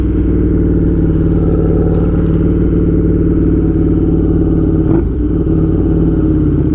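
A torquey motorcycle engine pulls hard and steady on a test drive, loud and close, holding a dense throbbing drone throughout with a brief dip and surge near the end.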